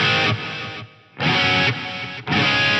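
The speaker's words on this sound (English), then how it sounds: "I'll put the big hall on, just so we can hear that." A Lexicon MPX-1 effects processor set to delay feedback with a big hall reverb gives a loud, dense distorted tone that swells in repeating blocks, dipping and decaying between them.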